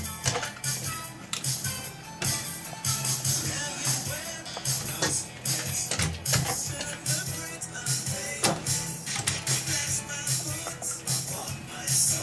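A sewing machine stitches leather for a handmade journal in a steady mechanical run, with a dense rattling chatter interrupted by brief pauses and repeated bursts, close and fairly loud, no talking.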